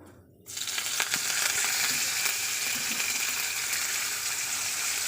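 Curry leaves dropped into hot oil with mustard seeds and fenugreek in a pan, a sudden loud crackling sizzle bursting in after a brief quiet start and holding steady, close and alone, for Tamil wedding-style mochai payir kuzhambu.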